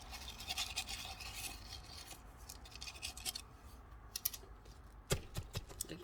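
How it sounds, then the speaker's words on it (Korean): A plastic succulent pot packed with potting soil is tapped repeatedly, a run of quiet, irregular knocks and scratchy clicks with one sharper thump near the end, faint and close, no talk. "턱턱턱턱 이렇게 치시는 거야"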